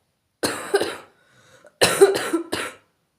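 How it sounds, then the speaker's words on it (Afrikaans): Two bursts of harsh coughing, the first a pair of quick coughs, the second a longer fit of three or four, close and loud. "My hoes is beter"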